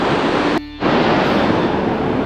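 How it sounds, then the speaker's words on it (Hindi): Sea waves surge and crash continuously onto Bekal beach in Kerala, a loud, close, broad roar with a brief dip partway through before the surf noise returns at full strength; no one speaks. "पानी का लहर इतना तेज है यहाँ पे आ रहा है"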